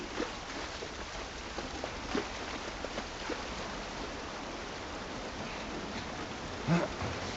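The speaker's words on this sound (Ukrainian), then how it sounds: "Стояти під дощем ще той кайф." Steady rain falls in The Last of Us Part I, a continuous dense hiss of drops with a couple of faint thuds, heard alone without voices.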